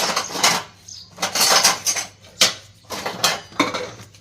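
Kitchen utensils, pots and dishes clatter and clink in repeated bursts of handling, with metal pieces knocking together at close range and short pauses in between.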